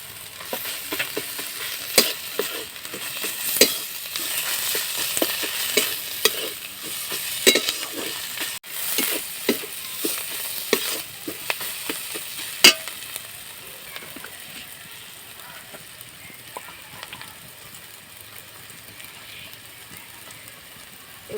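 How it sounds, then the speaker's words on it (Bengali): Ginger paste sizzling in hot oil with chopped banana stem for a curry, stirred with a spatula that scrapes and clinks against the pan in irregular strokes over a steady close frying hiss, no talking. "এবারে আমি আদা বাটাটা দিয়ে দিলাম।"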